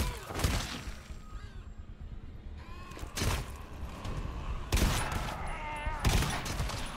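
Bursts of gunfire in the game GTFO, several sharp loud volleys spaced a second or two apart over a busy background, with voices talking in between.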